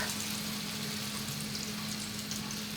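Hot olive and vegetable oil sizzles in a pan for Kabyle mchawcha, a steady, even frying hiss with no voices and no distinct pour.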